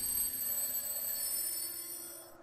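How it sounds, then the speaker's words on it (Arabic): An old traditional alarm clock rings with a continuous, bright metallic bell tone, steady and fairly loud, tapering off slightly at the end with no talking. "صوت المنبه هو اللي صحاني"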